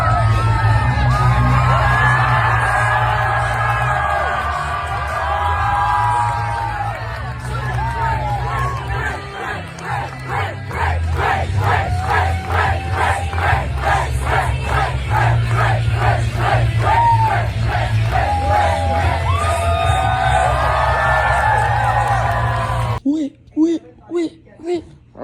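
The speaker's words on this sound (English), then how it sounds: "having the crowd chant, "Wit," A crowd at a costumed fan ball for an author's Worldhopper event yells, whoops and chants rhythmically in a loud, dense roar that carries over booming music, with excited shouting throughout before the noise cuts out near the end.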